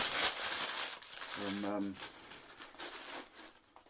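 Newspaper crinkling close by as it is stuffed inside a Vikings film prop helmet for packing, rustling under someone speaking, with a brief tonal hum in the middle.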